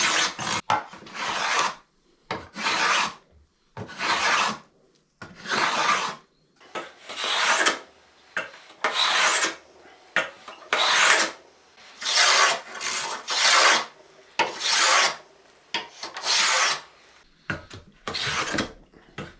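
A rosewood fretboard on a Stratocaster being planed down by hand, with repeated close rasping strokes, each lasting about a second and separated by short pauses, in a steady rhythm with no speech.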